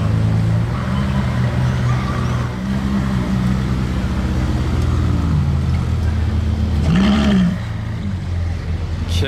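A Ferrari V12 supercar out on a Monaco street, its engine droning steadily and rising in a couple of brief revs amid traffic and ambient street noise.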